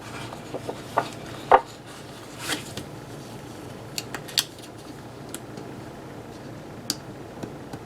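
Scissors snipping paper in a faith planner, a handful of quiet, sparse cuts and rustles at close range with no talking.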